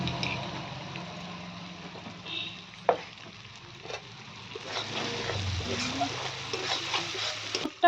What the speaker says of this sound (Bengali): এই মশলাটা করে রেখেছিলাম, সেটা এবার ভেজে নেব।